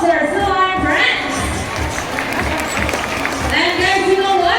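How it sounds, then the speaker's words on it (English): Audience at a sea lion show at Manila Ocean Park clapping and cheering in a steady, crowd-wide wash, with children's shouts and a host's voice talking over it. "How about a round of applause for our sea lion friends?"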